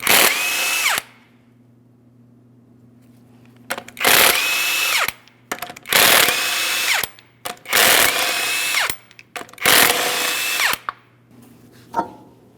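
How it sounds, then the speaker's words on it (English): Impact-style power tool removing 21mm lug nuts from the driver's side front wheel of a 2005-2010 Chrysler 300, heard as five loud, separate whirring bursts with short pauses between them, close up and with no talk. "Let's remove all 5 of our 21mm lug nuts and remove that wheel."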